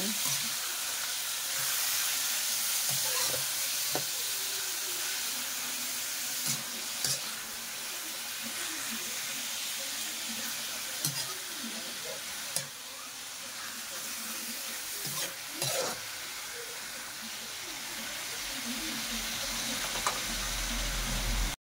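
Meat fries in a pan with onion and garlic for Ilocano igado, giving a steady, dense sizzle throughout with occasional clinks and scrapes of stirring.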